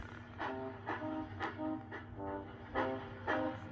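Steam train engine rolls along with a rhythmic chuffing beat and a short whistle, fairly faint and steady.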